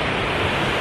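Pacific Ocean surf at Santa Catalina, Panama, a steady, loud wash of breaking waves that fills the moment evenly, with no voices.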